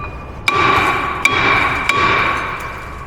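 Metal strikes on the brake parts of a 2007–2025 Mercedes Sprinter: three sharp, loud hammer blows, each ringing out with a bright sustained metallic tone between hits.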